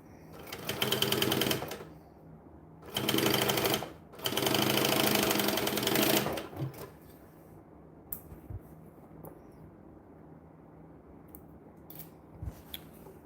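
A sewing machine stitches a bag in three loud close bursts, the last and longest about two seconds, then falls quiet apart from faint handling clicks.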